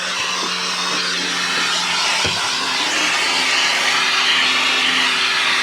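A Metro Vac N Blow Pro 83BA vacuum running steadily on a car dashboard, a loud continuous high-pitched whine and airy rush with a brief bump partway through.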